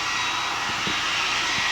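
A hair dryer blows steadily on a hair-styling model at a Halloween show, a continuous loud airy whoosh with faint low thumps, no talk over it.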